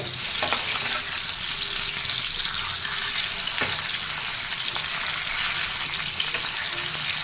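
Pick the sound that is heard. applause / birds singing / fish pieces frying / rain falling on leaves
fish pieces frying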